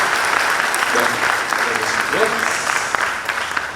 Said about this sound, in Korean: 내빈들께서는 뜨거운 박수로 맞이해주시면 감사하겠습니다